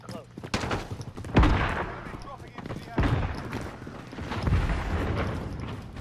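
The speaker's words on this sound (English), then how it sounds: "Oh shit, I'm getting shot from outside." Gunfire in a video game shootout: several sharp, loud shots arrive in bursts, with the enemy firing from outside, under continuous voices talking over game chatter.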